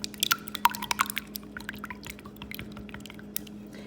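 Cold tap water trickles and drips into a measuring cup of tempura batter mix, a close, soft, irregular splashing that rises and thins over a few seconds.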